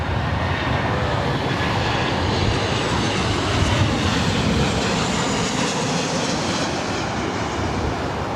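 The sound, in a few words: passenger jet aircraft landing at LAX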